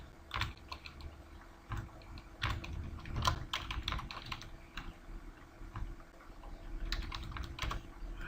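Quick, uneven clatter of fingers typing on a computer keyboard, with bursts of keystrokes and brief pauses, heard close up in a quiet room.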